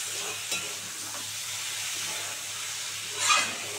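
Food fries in a pan with a steady, even hiss throughout, close by and moderately loud, with a faint tap early on and a brief louder scrape near the end. No one speaks.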